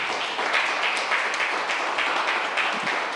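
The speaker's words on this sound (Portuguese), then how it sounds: "Aplauda o Senhor bem forte." A church congregation applauds steadily and loudly during a worship service, dense overlapping clapping that fills the room without pause.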